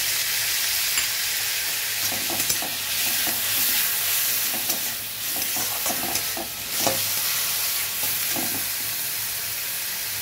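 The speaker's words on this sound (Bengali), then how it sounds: "পেঁয়াজটা একটু ভাজা হয়ে গেছে, এবার লঙ্কা রসুনের পেস্টটা দিয়ে দিলাম।" Chili-garlic paste frying with chopped onions in a pan, a loud steady sizzle with repeated scraping stirs of a spatula, close and continuous.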